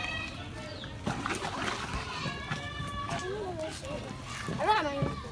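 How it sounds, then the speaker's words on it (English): Water splashes and sloshes steadily as hot water is mixed into shea butter in a village, with voices talking over it throughout. "So hot water has been added, then you mix it gradually."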